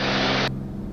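A small aircraft climbing after takeoff gives a loud, steady broadband engine roar that drops abruptly in brightness halfway through, leaving a lower droning hum.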